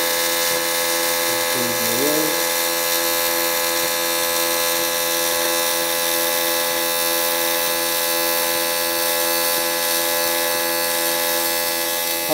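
An ESAB Caddy 2200iw TIG welder holds a steady arc, giving a loud, constant electrical buzz with a hum. A brief tone shift near the start suggests slope-down, and a voice talks over it.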